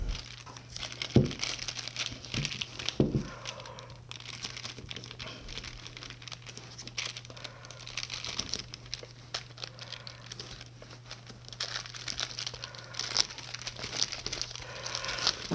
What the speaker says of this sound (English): now let's put some more butyl tape on this